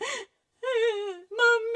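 A voice whimpering and wailing close by, in drawn-out tremulous cries separated by short pauses, with no other sounds around it.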